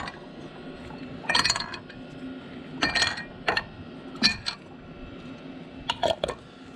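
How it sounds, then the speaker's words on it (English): Metal fuel injectors dropped one by one into a glass jar of degreaser, each landing as a sharp clink against the glass, in four spaced clusters, close and fairly loud. "I'm going to just drop all the injectors in."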